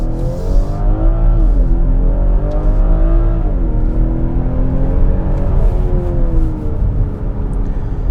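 A 2022 BMW X5 sDrive40i with a 3-liter inline-six runs loud and close, its engine climbing through several gears as it accelerates hard with a smooth, steady drone.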